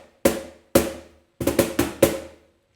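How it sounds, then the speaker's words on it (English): High slaps struck on a cajon during a samba lesson: six sharp, bright hits, two spaced singly and then a quicker cluster of four, each ringing briefly and close, with no talk. "You play it also high on the cajon"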